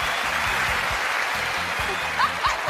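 Studio audience on a comedy show keeps up a steady, dense applause with a rhythmic low thumping underneath and brief voices cutting in near the end.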